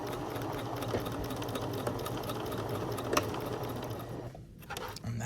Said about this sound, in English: when I get to this edge, I'm gonna backstitch because we're done